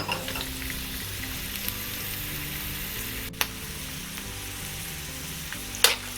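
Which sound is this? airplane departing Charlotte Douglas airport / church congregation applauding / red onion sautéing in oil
red onion sautéing in oil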